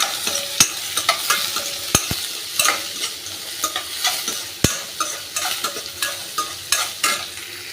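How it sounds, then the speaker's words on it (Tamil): Peeled peanuts sautéing in a little oil in a pan with cumin and urad dal, a steady crackling sizzle broken by frequent sharp clicks of a spoon stirring and scraping, close and fairly loud, no voices. "கொஞ்சம் தோல் உரிச்ச நிலக்கடலை நெக்ஸ்ட்டு ஆயில் கொஞ்சம் போட்டு இதை வதக்கிட்டுருக்கேன்"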